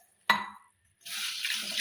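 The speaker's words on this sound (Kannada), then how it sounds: "ಇವಕ್ಕೊಂದು ಸ್ವಲ್ಪ ನೀರು ಹಾಕಿ ತೊಳ್ಕೊತೀನಿ ನೋಡಿರಿ." A sharp clink of a vessel, then a steady rush of tap water poured over mixed lentils and beans being washed in a kitchen, close and alone.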